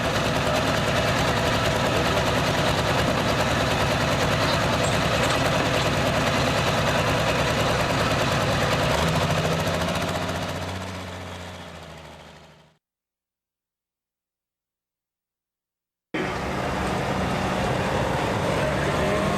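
A John Deere pulling tractor roars loudly at full throttle for about twelve seconds, then cuts to silence before the din returns, at a pro tractor pulling competition.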